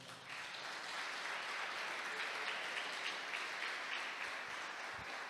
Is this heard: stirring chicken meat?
no